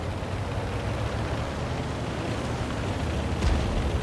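A deep, rumbling blast with heavy low-end booms of tank cannon fire in World of Tanks, repeating under a steady roar, with a sharper burst near the end.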